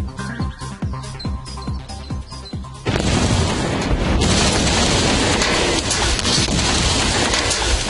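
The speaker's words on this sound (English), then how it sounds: "the rapid generation of hydrogen gas should produce quite an explosion" Cesium dropped into water sets off a hydrogen explosion: a few sharp clicks, then a sudden loud broadband burst that turns into a sustained, crackling roar until the end.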